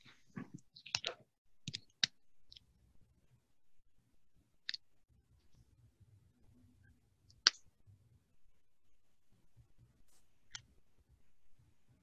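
Computer mouse clicks, sparse and crisp, sound in small scattered groups against near silence, with faint low background rumble between them.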